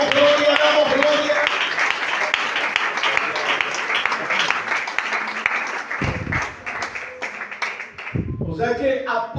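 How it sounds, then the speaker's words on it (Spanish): A church congregation bursts into strong applause during a Sunday school sermon, dense clapping filling most of the stretch before it thins out, with a voice speaking over and after it. "Aplauso fuerte para él"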